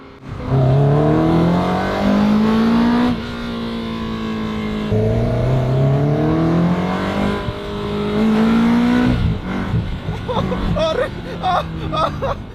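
A Ferrari 360 Spider engine revs loudly, pitch rising and dropping through several downshifts, ending in crackling, popping exhaust bursts.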